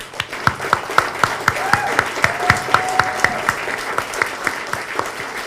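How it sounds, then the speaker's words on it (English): Audience applause: a warm round of clapping from a room of people, with a sustained wash of many hands and distinct, rhythmic louder claps standing out near the front. "So I think it's just appropriate for all of us to give a very warm round of applause to Dan Locke"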